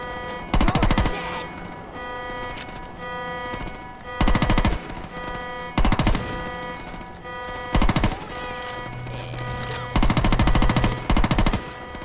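Assault rifle fire in Saints Row 2 comes in several sharp, loud automatic bursts spaced a second or two apart, over steady background game music.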